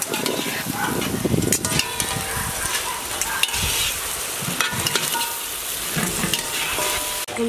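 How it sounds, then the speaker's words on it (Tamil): A pan of vegetable poriyal being stirred while it fries, loud close sizzling with busy scraping and clattering of the spoon, the texture rising and falling as it is tossed. "கிண்டி விட்டுக்கோ."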